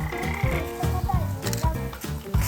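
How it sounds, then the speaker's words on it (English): Toads calling at night during a rainy-season field survey in Japan, a dense chorus of overlapping croaks and pulsing calls, steady and close, with no talk. "The goal is to conduct a nighttime health checkups for the toads."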